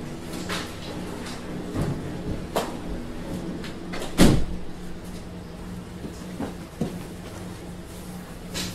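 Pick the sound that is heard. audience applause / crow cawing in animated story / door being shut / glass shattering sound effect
door being shut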